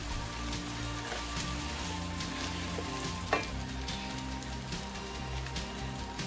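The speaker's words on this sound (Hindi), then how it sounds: "प्याज के साथ ऑयल में सूखी लाल मिर्च भूनने से इसकी खुशबू बढ़ जाती है" Dry red chilies and onions frying in hot oil for mutton keema kaleji, a steady close crackling sizzle throughout with one brief sharper pop partway through.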